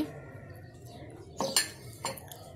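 Two cupcake cups are set down and handled on a kitchen surface, giving a few faint, quick clinks, two close together and then a third shortly after, over quiet room noise.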